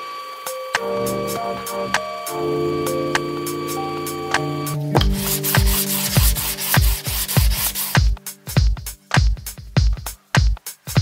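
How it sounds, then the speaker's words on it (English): Rough, rhythmic hand-sanding strokes on wooden picture frame pieces, scratchy and close, building into rapid back-and-forth rubbing with brief pauses. "After a lot of sanding"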